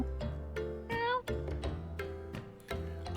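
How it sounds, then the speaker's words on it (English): Several cat meows from a video game about finding cats in Bali, loud, close and repeated in quick succession, some drawn out and rising, with no talking over them. "We need the louder meows."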